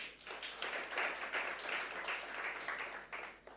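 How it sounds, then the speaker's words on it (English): A conference audience clapping in a hall, a dense, continuous ripple of many hands at moderate volume that holds steady for a few seconds and then begins to thin out. "Please clap for them one more time"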